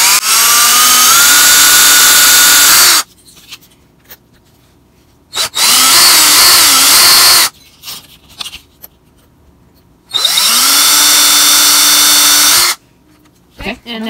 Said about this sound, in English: Okay, here I go drilling